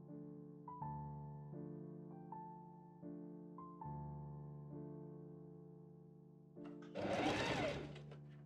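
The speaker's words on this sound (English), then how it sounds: "I pin and machine sew the collar pieces together, leaving the bottom open for turning." A sewing machine stitches velvet collar pieces together in steady running bursts, pausing and restarting several times, with a louder, harsher burst of machine noise near the end; no one speaks.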